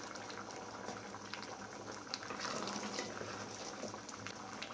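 Plantain, potato, brinjal and raw mango bubbling in a pot of dalcha, a continuous soft boiling burble with a faint watery hiss, close but quiet and steady, no talking.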